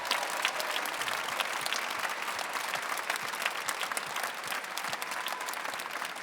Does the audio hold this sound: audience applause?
yes